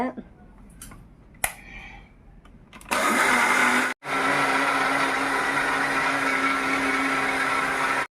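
An electric grinder, first heard as a few clicks and knocks, then starts up and whirs loudly and steadily while grinding rice into batter for Kerala appam, cutting out briefly and restarting, close by.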